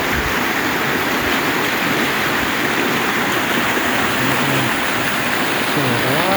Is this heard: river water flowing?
yes